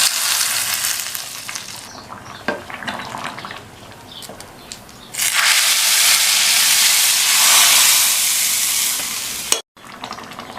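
An onion and garlic tempering hisses and sizzles as it is poured into sambar, with a loud burst of frying lasting several seconds and some stirring clatter before and after.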